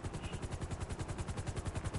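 A helicopter in GTA 5 Online thumps with a rapid, even rotor beat that pulses steadily throughout, moderately quiet and continuous.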